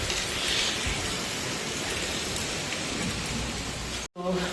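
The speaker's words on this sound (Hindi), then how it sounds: "अभी देखिए मौसम का हाल मैं आपको दिखाती हूँ, तेज़ बारिश हो रही है," A downpour of heavy rain at a farm home in India hisses loudly and evenly on surfaces, then cuts off abruptly near the end before resuming briefly.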